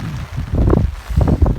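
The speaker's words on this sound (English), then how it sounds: "And guys, it's very windy. Very windy." Strong wind gusts across a farm plot in Jamaica, heard as a close, rough low rumble buffeting the microphone that swells and eases through the moment.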